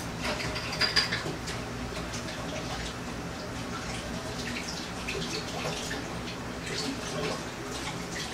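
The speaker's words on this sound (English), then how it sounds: "I'm gonna go wash my fork real quick" Running water splashes steadily in a sink as a fork is rinsed, a continuous close hiss with a few brief clinks and drips, no talking.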